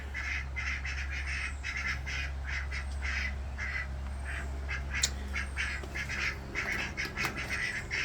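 Ducks in a chicken coop quack in repeated bursts through the whole stretch, several birds calling close by over a steady low hum, with no talking.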